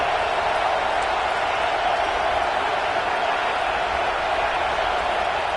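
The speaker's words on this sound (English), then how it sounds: "this crowd is fired up. Listen to this noise here." A football stadium crowd roars in a steady, dense wash of cheering and noise, loud and continuous throughout with no individual voices standing out.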